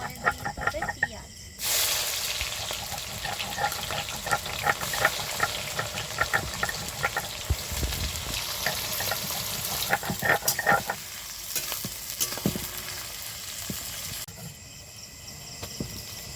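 Onions hit a pan of hot oil with dry chillies and whole spices, bursting into a loud, broad sizzle that holds steady for about twelve seconds before dropping away, close up and without voices.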